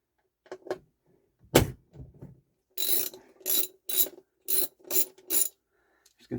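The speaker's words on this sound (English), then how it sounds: "I am going to remove the bearing from the turntable altogether. It's a 14 millimeter nut." A ratchet wrench loosening the 14 mm nut that holds the bearing of a Pioneer PL-A45D turntable: a few soft clicks and a knock, then five or six quick, close ratcheting bursts in a steady rhythm, with no talk.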